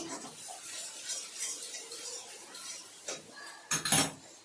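Besan water being poured onto roasted masala in a pan while cooking gatte ki sabzi, with soft scraping and clinking of a utensil against the pan, then a sudden louder splash and hiss near the end.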